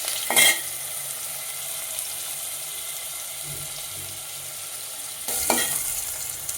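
Onions frying in hot oil for an aloo dal recipe, a steady broadband sizzle throughout with two brief louder splashes or spatters near the start and end, no talking.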